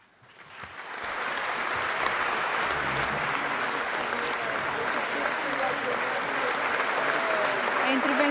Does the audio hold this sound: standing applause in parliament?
yes